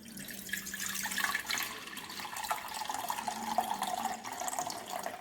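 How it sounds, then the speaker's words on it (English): Half a liter of milk poured steadily into a steel pan, a continuous splashing, filling sound that shifts in pitch as it goes, close by with no talking. "We are going to add this half liter milk."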